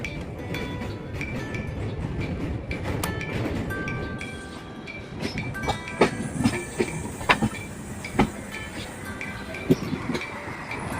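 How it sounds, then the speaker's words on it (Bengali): An old Netaji Express train with LHB coaches runs at night near Old Delhi, a steady rumbling roll with rhythmic clicks and clanks of wheels over rail joints, heard from inside the train. "এটা ক্রস করে রেড ফোর্টের গা ঘেঁষে আমাদের ট্রেন ঢুকবে পুরানো দিল্লিতে"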